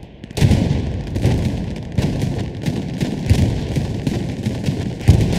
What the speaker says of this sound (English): Both sides, just the explosions are non-stop.